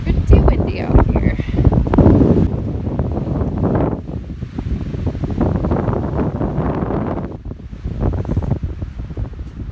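Strong gusty wind buffets the microphone outdoors on a golf course at a Canadian national tournament, a loud rumbling roar that swells and eases while a person speaks over it.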